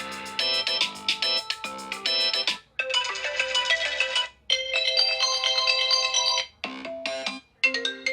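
Several classic 3G-era iPhone ringtones play in turn, bright melodic electronic tones in repeating patterns, with short gaps between each tune.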